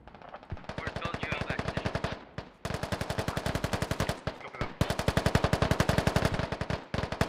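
Automatic weapons fire in the military shooter game Squad, loud sustained bursts of rapid shots packed tightly together, with brief pauses between strings.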